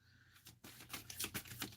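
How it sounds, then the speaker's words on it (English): Oracle cards are shuffled by hand close up, a quick flurry of soft riffling taps and flutters lasting under two seconds. "It's not even letting me shuffle."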